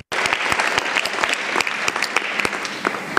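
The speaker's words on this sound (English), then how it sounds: "I would ask you to applaud all of them" A conference audience at the Forum d'Avignon applauding, a full burst of many hands clapping close and sustained after a sudden start.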